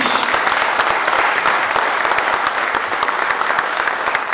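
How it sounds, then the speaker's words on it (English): Loud, dense applause from an audience at a philanthropy awards ceremony in Bengaluru, many hands clapping continuously and close, with no speech over it. "a big round of applause to Sri Umesh"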